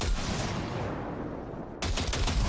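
A short burst of machine-gun fire is aimed into a junk pile in Cyberpunk 2077. It comes as a dense, loud rattle that fills the first two seconds, drops off sharply, then picks up again as a second burst.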